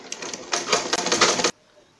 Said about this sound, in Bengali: এখন এই মাপে সম্পূর্ণতে সেলাই করে নিব।